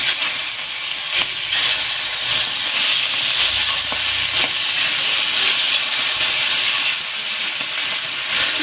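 Squid sizzles on a grill pan in cooking oil, a steady loud hiss of frying with a few sharp crackles, no voices.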